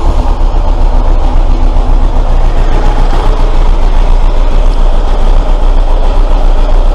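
A Kawasaki ZX10B motorcycle engine running with no fuel pump, only a pipe feeding it, as a loud, dense, continuous roar close by with no breaks or voices.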